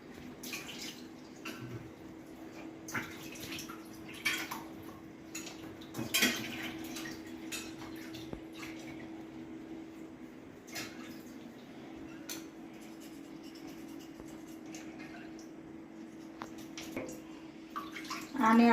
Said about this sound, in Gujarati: સરસ એવા ધોઈ લઈએ બે પાણીએ